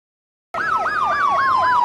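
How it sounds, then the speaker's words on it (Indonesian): Ambulance siren wailing loudly and close, a rapid rising-and-falling electronic yelp cycling steadily after a sudden start out of silence. "dibawa ke rumah sakit dengan ambulan"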